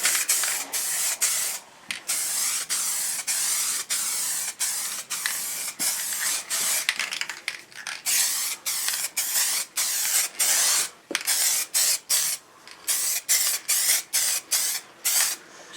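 Spray can bursts of liquid wrap coating Triumph Tiger motorcycle parts in a garage, a long run of short hissing pulses with brief gaps, steady and close, no talking.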